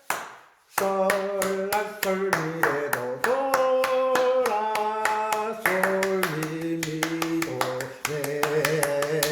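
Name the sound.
hand clapping to the beat in singing class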